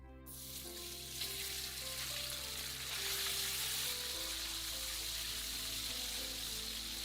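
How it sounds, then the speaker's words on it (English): Steady, loud sizzling of chicken pieces frying in hot oil in a pan, with a continuous crackling hiss throughout. "Pour oil on the frying pan and fry the chicken on it first."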